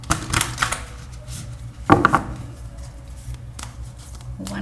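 Oracle cards for a tarot reading shuffle near and fairly loud in quick riffling bursts with soft handling in between, alone without talking.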